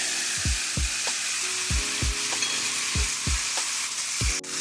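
Petite diced tomatoes, tomato sauce and kidney beans are stirred together in a pan for chili mac bake, with a run of regular, close scraping strokes over a constant soft sizzle.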